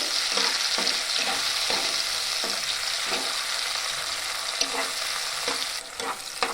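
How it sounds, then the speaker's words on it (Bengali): Tomato puree and spices stirred and fried in a pan for a vegetarian green banana kofta curry, a steady close sizzle broken by regular scraping strokes of the spoon, with no talking. "এটাকে ভালো করে আমি এইভাবে নাড়াচাড়া করে ভেজে নেব"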